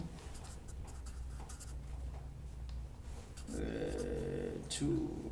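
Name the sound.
writing by hand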